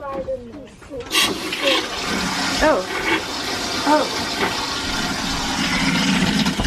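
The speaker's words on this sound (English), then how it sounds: "I'm gonna flush it and see what happens." An RV camper toilet flushes with a loud, steady rush and gurgle of water that keeps running and filling, while a person briefly exclaims.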